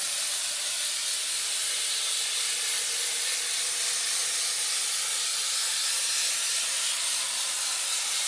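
Water sprayed from a hose onto the radiator of a Tesla Model Y, a steady, loud, close hiss that holds without a break, with no voices.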